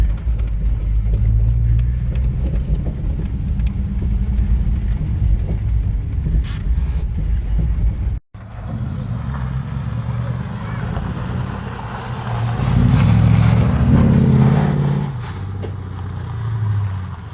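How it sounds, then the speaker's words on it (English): A Ford Capri, its ignition timing just adjusted, runs with a steady rumbling idle, then after a brief break its engine swells and revs as it pulls away nearby. "There goes Chris Stacey for his first ride in a Capri."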